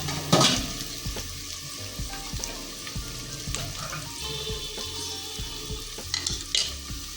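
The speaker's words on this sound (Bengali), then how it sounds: "তারপরে 1 কাপ আমি পেঁয়াজ ঢেলে দিয়েছি। পেঁয়াজটা একটু লাল করব।" A cup of onions frying in hot oil in a pan for a whole-garlic beef curry, a close crackling sizzle broken by regular spatula scrapes and knocks against the pan.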